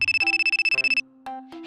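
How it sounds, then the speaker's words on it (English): A mobile phone's ringtone plays a rapid run of bright electronic beeps, then shifts into a few short melodic tones, loud and close with no one speaking. "Hey, is that your phone ringing?"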